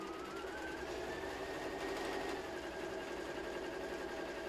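A sewing machine top stitching a self-binding napkin along a mitred seam, a steady continuous mechanical whir with a faint rising tone, close and alone without talk.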